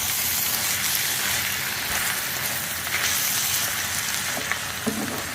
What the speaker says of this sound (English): I've got to get me some garlic off in there. I'm just going to stir all of that up in it.